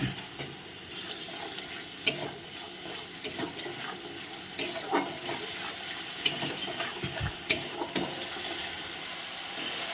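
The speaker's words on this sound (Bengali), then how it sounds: "এবার আমি মশলাটাকে ভালো করে একটু কষাবো।" Spice masala fried and stirred in a pan gives a soft sizzle broken by regular scraping and knocking strokes of the spoon against the pan, close and quiet, with no talk.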